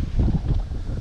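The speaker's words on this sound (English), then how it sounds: "it's a bit windy today" Wind buffets the microphone in low, rumbling gusts, loud and close, with no voices.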